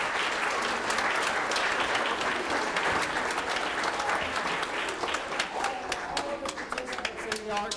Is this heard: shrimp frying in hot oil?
no